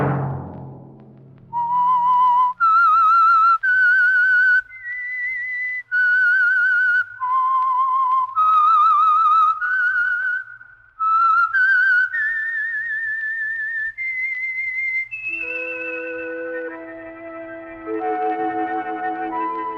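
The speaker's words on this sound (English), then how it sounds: "Let that whistle be your signal for the Signal Oil program" A clear, solitary whistled melody of sustained and stepping notes, slightly echoey, ending in a held chord of orchestral tones, the theme of an old radio mystery program.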